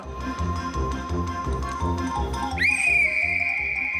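A loud, sustained whistle blast sounds over a steady, rhythmic background clatter, starting partway through with a sharp pitch rise and then holding a piercing steady tone to the end.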